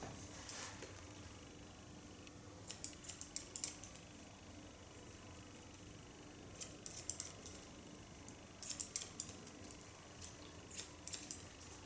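Scissors snip hair during a pixie cut, with quiet bursts of quick metallic clicks in a few short clusters against a faint steady room hum.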